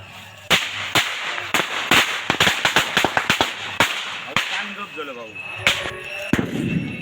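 Festive atom bomb firecrackers burst outdoors during a Gauri Ganpati celebration in the Konkan countryside, a rapid string of sharp loud cracks over several seconds, with voices talking in the background between blasts.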